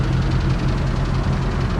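Boat engine idling with its engine cover on, a steady, smooth low rumble with a continuous mechanical hum, close and loud with no talk.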